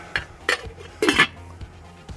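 A metal lid clanks down onto a pot of mussels in a home kitchen, a few close clinks and knocks after a brief shake of the pot, with no talking.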